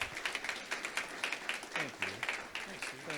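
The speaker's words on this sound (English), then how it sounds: "Let's give them all another round of applause" Scattered clapping from a small audience at a Rotary Club meeting, fairly faint and uneven with distinct individual claps rather than a dense roar, while a voice speaks over it.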